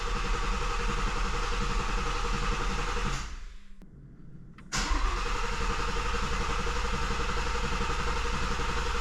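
A 2017-2020 Ford Shelby GT350 engine runs steadily and loudly after an oil change. It drops off briefly at mid-clip, then picks back up to the same constant drone.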